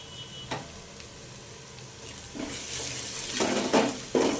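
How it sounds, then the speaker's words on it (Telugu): Spices for chole curry fry in a hot pan, with a soft sizzle and a few scraping stirs of a spoon against the metal that grow louder toward the end. "పచ్చివాసన పోయే వరకు బాగా వేపుకోవాలా."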